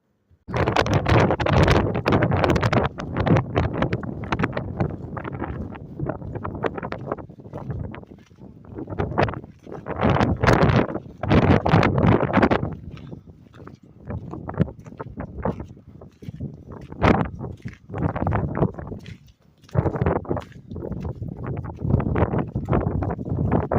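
Strong wind buffets the microphone in loud, roaring gusts that rise and fall continuously, on a hike near Denali, Alaska.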